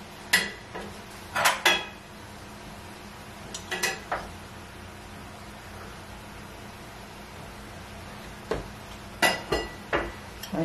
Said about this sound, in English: let's see if I can get this cornbread out of this pan now.